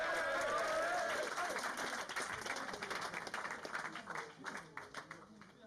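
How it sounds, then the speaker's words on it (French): Audience applause at a French rap battle event, a steady wash of clapping that starts loud and gradually thins and fades over several seconds, with some crowd noise mixed in. "On applaudit."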